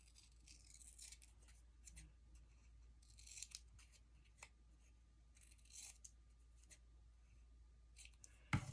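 Quiet scissors cut out a paper decoupage napkin for a craft tag, with soft, intermittent snips up close in a hushed room and a sharper click near the end.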